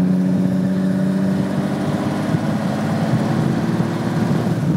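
A 1980 Kougar Sport with a Jaguar 3.8 litre engine warms up, a loud, steady, throaty idle with a deep rumble running close and continuous throughout.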